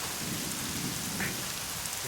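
Heavy rain pours down steadily as a dense, even hiss that fills the whole moment, with no voices over it.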